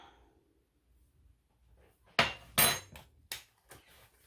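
Several sharp plastic snaps and pops as a new cayenne pepper container is opened in a kitchen, after a quiet pause, the loudest two close together, followed by a couple of lighter clicks.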